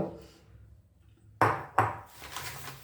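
A small stone grinding slab (shil-nora) is handled in a Bengali kitchen, giving two sharp, close knocks of stone on stone followed by softer scraping.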